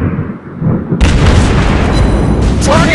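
A shell striking a ship in World of Warships Blitz lands as one sudden loud boom about a second in, followed by a sustained roar of blast and debris that carries on to the end.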